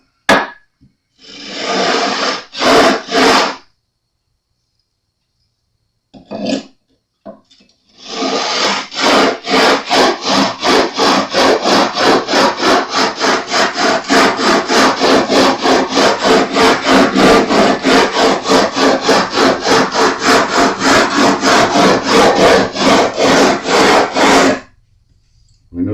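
Sandpaper leveling the frets on a Jazz Bass neck, a loud close rasping scrub that starts with a couple of short strokes, then runs as steady rhythmic back-and-forth strokes for about fifteen seconds before stopping.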